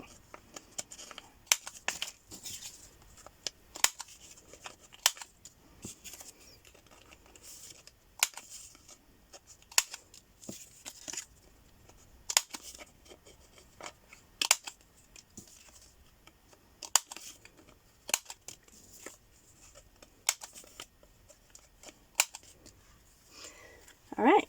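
Paper kit pages having their corners rounded with a corner punch, a series of short crisp snips and clicks spaced irregularly, with occasional paper rustling between them.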